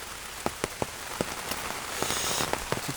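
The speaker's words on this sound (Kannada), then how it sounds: "ಸಿಕ್ಕಾಪಟ್ಟೆ ಮಳೆ" Heavy rain falls steadily as a broad hiss, with scattered sharp drops tapping on a nearby surface and the downpour swelling slightly toward the end.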